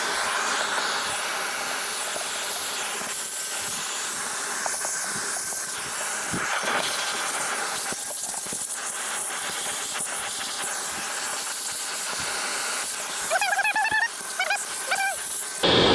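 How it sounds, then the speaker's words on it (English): Aerosol spray hisses loudly and almost continuously onto the intake parts of a 1992 VR4 engine, close up in long bursts, with a few squeaky rattles near the end. "I might give it a good spray real quick and then let it sit"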